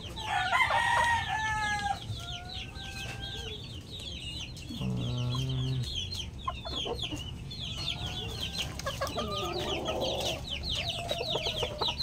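White Kelso gamefowl pullets cluck and crow close by, with repeated crowing calls and busy clucking layered over a steady farmyard background.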